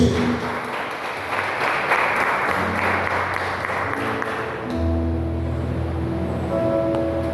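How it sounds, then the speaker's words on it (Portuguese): A church congregation at a missions service claps together in a broad, sustained wave of applause. Music or organ tones and some voices rise beneath it in the latter half. "Você pode aplaudir ao Senhor por isso?"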